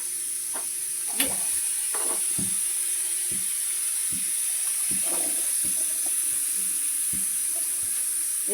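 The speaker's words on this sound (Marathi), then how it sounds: "आता हे मी भाजून घेणार आहे." Onion, tomato, garlic, ginger and cashews roast in a pan for chole masala, giving a steady close sizzling hiss with scattered soft pops and clinks throughout, no speech.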